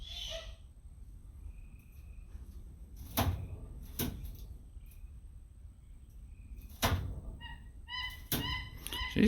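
A kookaburra repeatedly smacks food against a hard perch, several sharp thumps spaced irregularly that vibrate the walls, with faint chirps and calls in a quiet room.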